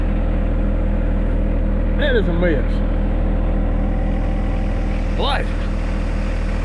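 A small John Deere compact tractor engine runs at a steady, loud drone throughout, with people talking over it.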